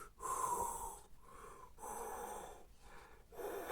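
A person imitates Darth Vader's mechanical breathing from Star Wars, four slow rasping breath cycles alternating inhale and exhale, close and fairly loud, with no speech.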